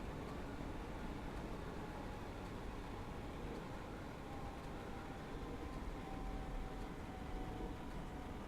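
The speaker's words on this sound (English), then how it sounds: "I'm going to start slowing the train down now." A steady, dense rumble of a Class 313 train slowing on approach to Hatfield station in a train simulator game, with faint high squeals, continuous and fairly even throughout, no voices.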